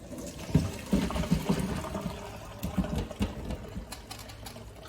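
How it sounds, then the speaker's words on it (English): Boiled potatoes drained from an electric kettle, water splashing and trickling out in uneven gushes and spatters, fairly close and moderately loud, with no talking. "And now the potatoes are done, we're going to drain them."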